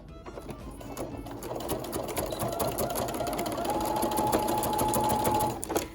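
A sewing machine slowly stitches a lining onto the chin piece of a neoprene face mask, a steady close whirring hum with fine rapid clatter that holds for several seconds, alone and without talk.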